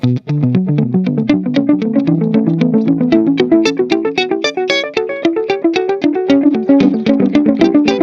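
A clean electric guitar through an Analogman ARDX20 delay pedal plays a steady run of picked notes, each echoing with repeating delay repeats that blur into a continuous shimmering line.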